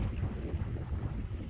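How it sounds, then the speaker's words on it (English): Steady northeast wind at around 15 mph sweeps over open water around a kayak near Mackay Island in North Carolina, giving a near, unbroken gusty rumble against the microphone with soft wave wash beneath and nobody talking. "This is about 15-mile-an-hour northeast winds over a lot of open water"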